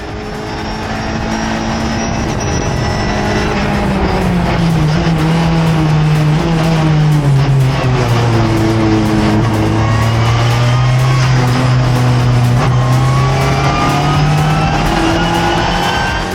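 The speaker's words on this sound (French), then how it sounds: "Vivez le départ depuis l'habitacle de la 56 CTF Xenitrans avec Eric Quérol." The 56 CTF Xenitrans race car heard from inside the cockpit at the start of the 12 Hours of Le Castellet, its engine loud and continuous, pitch rising and falling through repeated upshifts and gear changes.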